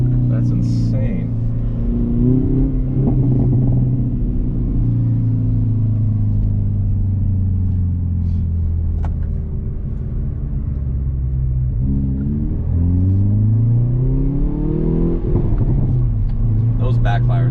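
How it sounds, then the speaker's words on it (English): A 2021 Hyundai Veloster N with a stock exhaust rumbles and revs from inside the car, its engine note rising in pulls with crackles in between, while people talk over it. "Those Backfires are crazy."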